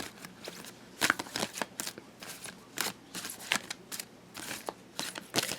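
Angel of Abundance oracle cards being shuffled, a rapid run of crisp riffling flicks and soft card slaps repeating close up at a steady quiet level, with no talking.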